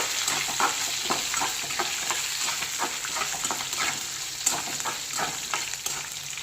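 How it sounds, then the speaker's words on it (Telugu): Dry red chillies and green chillies frying in a pan for coconut chutney, with a steady bright sizzle and repeated scraping stirs throughout, close and continuous. "ఇప్పుడు ఇందులో ఒక 4 ఎండుమిరపకాయలు, ఒక 4 పచ్చిమిరపకాయలు, వీటిని కూడా బాగా వేయించుకుందాము."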